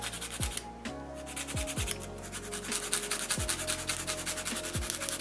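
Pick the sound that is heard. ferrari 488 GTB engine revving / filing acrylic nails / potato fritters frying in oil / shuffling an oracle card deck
filing acrylic nails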